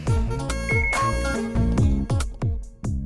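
A phone rings with a repeating electronic melody of bright, evenly spaced tones, loud and close, with no talking over it.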